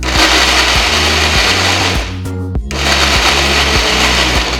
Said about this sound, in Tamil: அதே ஜார்ல நம்ம வதக்கி வச்சிருக்கிற இஞ்சியும் புளியும் சேர்த்து நல்லா பேஸ்ட் ஆக்கி எடுத்துக்கலாம்